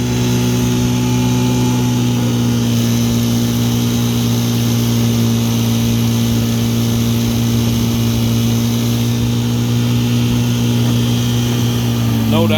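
A 1960 Evinrude Fisherman 5.5 hp outboard motor runs steadily on a pond test in cold weather, its loud, even engine hum holding throughout with no break and no voices over it.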